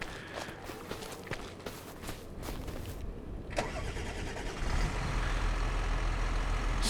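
A tractor engine cranks and catches in Farming Simulator 25, settling into a steady, loud idle rumble after a few seconds of mechanical clatter, with no talk over it.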